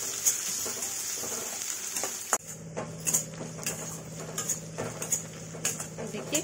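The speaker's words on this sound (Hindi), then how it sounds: "तो मैं इसमें थोड़ी सी प्याज डाल दे रही हूँ। अब हम इसे फ्राई कर लेंगे।" Onion frying in a pan for aloo kachori, a faint sizzling hiss under a series of close metal clinks and scrapes from a spoon against the pan.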